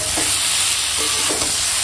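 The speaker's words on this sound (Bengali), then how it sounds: "দিয়ে এখন কষাবো" Chicken sautéed with turmeric, Kashmiri chilli and dried chilli powders and salt: a loud, bright, steady sizzle with a few quick stirring scrapes, close up and with no talk.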